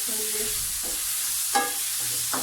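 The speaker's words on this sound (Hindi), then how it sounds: "इसमें आप चिकन ऐड कर देंगे और इसे भूनेंगे अच्छी तरह से" Chicken fries in a pan for a chicken macaroni dish, making a steady, close sizzle with a few brief scraping stirs and clinks over it.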